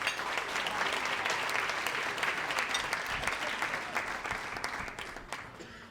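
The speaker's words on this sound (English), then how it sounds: "Let's give them a big round of applause." An audience at a school district's State of the District event applauds its board members with steady, full clapping that holds evenly, then begins to thin and fade toward the end.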